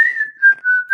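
A person whistles a tune: a clear, close, loud melody of a few sustained notes with no talking.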